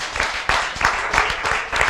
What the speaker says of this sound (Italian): facciamo un applauso a Simone Canova